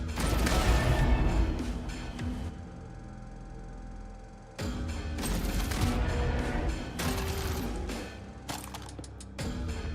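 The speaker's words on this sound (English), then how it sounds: "Those exploding barrels." Exploding barrels blowing up in the video game Jupiter Hell, a string of loud, close crashing blasts with clattering debris, a quieter lull, then further bursts of explosive noise and rattling, with no speech.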